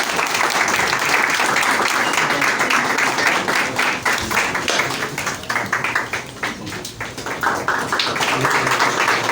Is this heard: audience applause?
yes